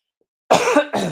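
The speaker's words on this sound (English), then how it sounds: "Apologies for coughing into the mic." A close, loud cough in two bursts, a rough hacking one followed by a shorter second, after a moment of silence.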